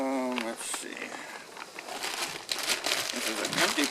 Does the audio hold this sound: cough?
no